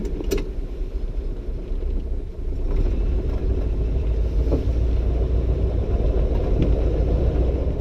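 A 1937 Packard Super 8 convertible sedan drives along, its engine making a steady, low rumble from inside the car, with a few faint clicks and rattles over the drone and no talk.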